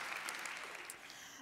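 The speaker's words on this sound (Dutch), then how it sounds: "dit is zeker een applaus waard" Quiet, steady applause from an audience at a museum congress, continuous over a short stretch and heard from some distance.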